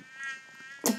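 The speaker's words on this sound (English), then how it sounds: "It's a mosquito." Whining mosquito from the Minecraft Hexxit modpack, a faint, steady high buzz lasting about a second before a brief louder burst of noise cuts in at the end.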